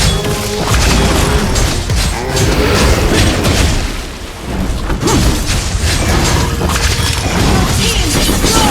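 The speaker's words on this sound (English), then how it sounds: "Team destroyed turret." Game turret being destroyed during a Mobile Legends ranked match with Hanzo. A dense, loud stretch of crashing, booming impacts and rumbling effects runs almost continuously, briefly dipping midway before surging again.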